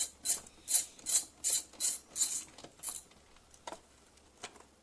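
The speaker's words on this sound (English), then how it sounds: "take a extension piece here and a 10mm socket and a ratchet and undo the 10mm that is holding the airbox right here" A ratchet with an extension and 10mm socket undoing the airbox bolt on a BMW E38/E39 with M60/M62 engine: a close series of about seven rhythmic ratcheting rasps, then fainter, sparser clicks as it slows, with no speech.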